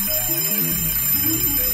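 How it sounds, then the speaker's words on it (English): A comedy podcast's overrun alarm rings as a steady, bright electronic bell tone over a dense background hum, running continuously with no pauses. "that's the alarm that says we're running way too long"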